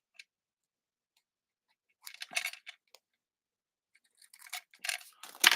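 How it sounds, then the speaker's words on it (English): Scissors trimming the edge of paper for a handmade card, a few crisp snips close up after a quiet pause. "I'm just going to trim this down a little because I can see some white."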